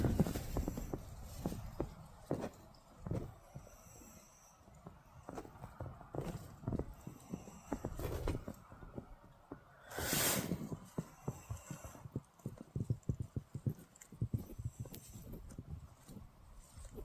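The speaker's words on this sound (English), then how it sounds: "Sounds like something's outside," Something moving about outside a tent at night: faint, irregular thuds and shuffling steps over a quiet, windy background, with one sharper hissing burst partway through and no talking.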